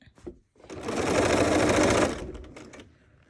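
A sewing machine stitches a fabric pocket for a Christmas countdown calendar in one close, steady whirring run of about a second, with faint clicks from handling before and after.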